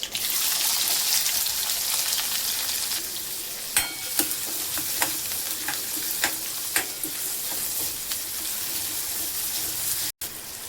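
Onion, cumin and curry leaves frying in hot oil in a pan, a steady loud sizzle with repeated sharp spoon scrapes and clicks as it is stirred.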